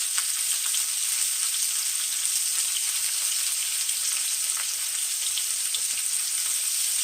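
Thin salmon pieces seasoned with garlic and black pepper fry in a pan with a steady bright sizzle and crackle, close and even throughout with scattered small pops and no talk.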